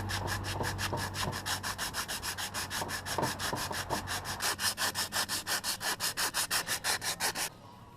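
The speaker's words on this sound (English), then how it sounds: "Now I'm going to have to sand this, deburr it, so I don't do any future damage." Metal on a Jeep TJ Wrangler rear tire swing is sanded and deburred by hand in rapid, rhythmic back-and-forth rasping strokes, close and steady, ending abruptly.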